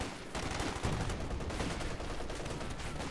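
MG34 machine gun firing a burst in Company of Heroes 2, a fast rattling volley amid dense, continuous battlefield noise, with distant gunfire throughout.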